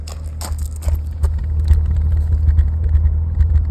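A BMW E36 with its exhaust opened up rumbles low and steady while sharp, irregular pops and crackles break through at close range. The car has a misfire under load. No one speaks.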